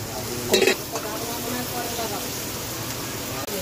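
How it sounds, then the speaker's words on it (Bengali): Garlic paste sizzles steadily in a pan with onion, in a village kitchen, while a spoon stirs and scrapes sharply near the start; the frying hiss stays close and continuous throughout. "এটা তাহলে এবার এদিকে কষতে থাকুক"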